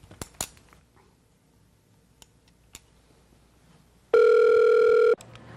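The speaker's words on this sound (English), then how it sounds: "you got to make the phone call" A telephone call is placed: a few sharp clicks and taps of dialing, then a single long, steady ring tone about a second long, loud and close.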